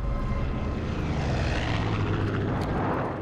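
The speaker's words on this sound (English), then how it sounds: "There's a plane behind me." A propeller airplane in the Far Cry 5 video game drones overhead, a steady, loud rumbling engine hum that holds for the whole stretch with no speech.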